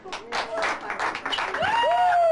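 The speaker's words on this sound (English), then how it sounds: "Big round of applause" Guests at a birthday gathering clap and cheer, uneven applause mixed with raised voices and a rising whoop, close and lively over a couple of seconds.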